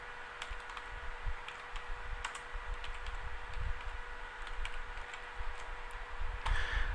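Someone typing on a computer keyboard, a quick irregular run of light clicking keystrokes, close and soft, running steadily throughout.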